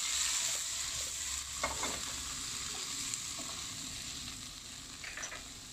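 Pre-fried shrimp tossed into golden fried garlic in a hot pan, a steady bright sizzle with scraping stir strokes and light clatter running throughout, close and fairly loud with no voices.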